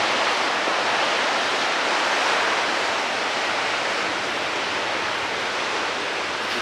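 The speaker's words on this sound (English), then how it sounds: "The sea, the energy, the noise." North Sea waves break along a cold coastline in a continuous, full roar of surf, loud and unbroken, with no voices.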